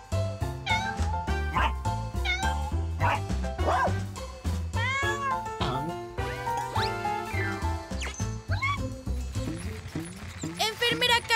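A cartoon cat meows repeatedly in an animated children's nursing episode, the mews mixed with a busy cartoon music track and excited character voices talking throughout.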